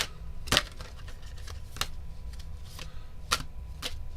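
Tarot cards being shuffled by hand, heard as a sparse series of crisp, papery snaps and riffles spaced irregularly over a quiet background, with no talking.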